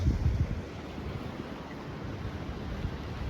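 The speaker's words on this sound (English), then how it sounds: "I might stay for this wave, because this wave looks pretty big" Ocean surf rolls in at high tide at Avon by the Sea, a continuous broad rushing wash with low rumble and wind buffeting the microphone, steady and fairly loud.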